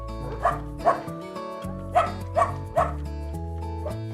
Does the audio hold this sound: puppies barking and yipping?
yes